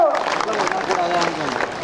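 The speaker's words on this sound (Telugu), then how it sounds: "మన ప్రశాంత్ అన్నకు గట్టిగా చప్పట్లు" Villagers in Pachala Nadkuda, Velpur mandal, applauding Minister Prashant at an election campaign event, a continuous crowd clap with voices and babble mixed through it, fairly close and sustained.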